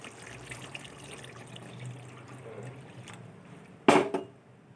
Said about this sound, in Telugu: నేనైతే వాటర్ అయితే పోసేసుకున్నా